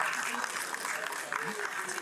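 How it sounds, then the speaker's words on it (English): Audience applause following a documentary screening, a moderate clatter of clapping hands running throughout with a voice speaking over it. "Another round of applause for"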